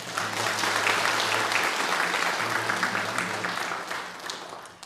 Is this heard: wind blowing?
no